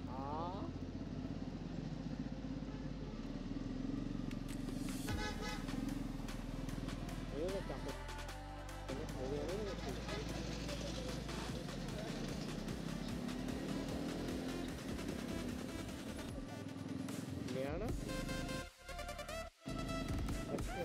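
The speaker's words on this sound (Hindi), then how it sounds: "इस बाइक का जो यार एग्जॉस्ट का साउंड है ना वो काफ़ी लाउड है" A loud motorcycle exhaust rumbles and revs at a bikers' meetup in Himachal, a steady throaty drone with rising throttle blips, while people talk over it.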